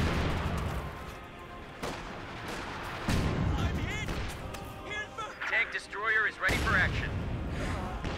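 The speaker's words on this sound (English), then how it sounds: "Here comes the Scott barrage" Artillery barrage in Company of Heroes 2, loud booms and crashing impacts rolling in bursts over several seconds, with battlefield voices talking over the bombardment.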